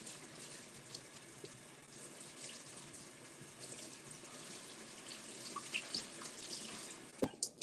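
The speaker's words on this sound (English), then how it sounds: "I'm rinsing the lid off now." A pot lid is rinsed under a running kitchen tap, with water splashing steadily and quietly, then a few louder knocks and splashes near the end as the lid is moved in the stream.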